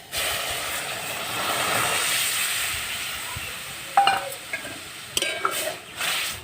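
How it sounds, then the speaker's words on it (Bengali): Milk poured into hot fried semolina in a pan sets off a broad hissing sizzle that swells and then fades, followed by several metallic clinks of a utensil against the pan. "এই দুধটা আমি সুজিতে দিয়ে দেব"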